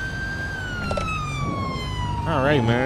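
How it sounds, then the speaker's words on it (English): A police car siren in the video game GTA 5 with the LSPDFR mod, a long gliding wail that shifts into a rapid yelp near the end, with someone speaking briefly over it. "Let's take him to the station so that siren could be off."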